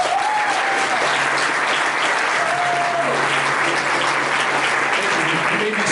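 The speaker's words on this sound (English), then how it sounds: "Please, let's hear for Randy and his amazing work in preparation for our meeting today" Audience at a Long Beach Rotary club meeting applauding, a dense continuous clapping from a room full of people, loud and steady throughout.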